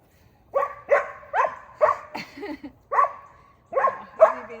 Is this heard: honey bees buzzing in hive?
no